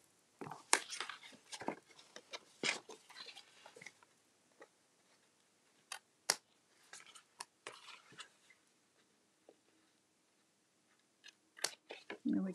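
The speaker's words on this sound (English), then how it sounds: "So I'm just going to snip those away. Get my little scissors out for this." Small scissors snip away thin paper strips from an autumn tag portfolio craft project, giving a scattered series of quiet, crisp cuts with pauses between, close to the mic and with no talking.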